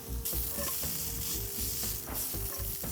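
Food tossed and stir-fried in a hot wok, with a steady loud sizzle broken by rhythmic scraping and clattering strokes as the ingredients are turned.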